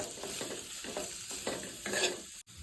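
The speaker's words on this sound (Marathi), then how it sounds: "असं मिक्स करून घ्यायचं वाटणमध्ये." Mashed potatoes worked together with a spice paste by hand or spoon, a short run of soft squelching, scraping strokes in a quick rhythm, close and without talk.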